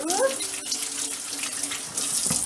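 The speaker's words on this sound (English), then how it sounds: "wash my hands. Or at least rinse my hands off." Hands rinsed under a running kitchen tap, a steady close stream of water splashing into a sink with slight changes as the hands move through it, and no talking.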